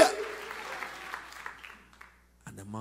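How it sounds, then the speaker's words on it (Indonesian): Church congregation applauding and cheering for Jesus Christ, a dense burst of clapping that fades steadily over a couple of seconds before a voice begins speaking. "Tepuk tangan sorak-sorai yang paling meriah"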